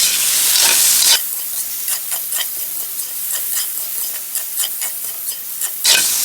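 Pork meat being stir-fried in a pan for Filipino chopsuey, with a steady sizzle broken by a run of scraping spoon strokes, loud and close, and no talking.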